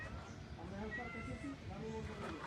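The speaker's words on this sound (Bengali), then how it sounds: "ওইখানে বিড়াল, আমি শুনতেছি" A wild jungle cat near a riverside temple meows faintly a few times in quick succession, soft and somewhat distant, while people talk nearby.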